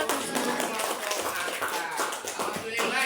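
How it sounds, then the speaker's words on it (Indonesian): Dense, steady clapping from a classroom group after a student presentation, filling the whole stretch at an even level with no pause. "Tepuk tangan."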